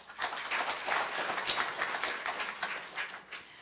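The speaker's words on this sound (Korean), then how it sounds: "이렇게 먼 길 참여해주신 심사위원 여러분들께 다시 한번 박수 부탁드립니다" Audience applause for the judges at the 2007 Kyungam Prize award ceremony, a steady dense patter of many hands that holds for several seconds with no talk over it.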